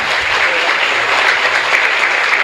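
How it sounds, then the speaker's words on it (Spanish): Sustained applause from a Catholic Mass congregation in the Divino Niño Jesús chapel, steady, dense clapping filling the space evenly with no pauses. "Fuerte aplauso entonces para el Señor."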